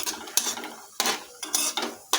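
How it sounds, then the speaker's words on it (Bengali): Dry red chillies and whole cumin seeds frying in oil, stirred in a pan: four or five brisk scraping strokes of a utensil over a soft background sizzle, close and fairly loud. "এখন এটা তেলের মধ্যে একটু ভেজে নিচ্ছি"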